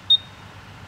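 A Yamaha Fazzio scooter's answer-back locator gives one short, high electronic beep over faint background noise.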